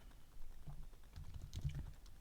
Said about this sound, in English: I'm gonna type something in.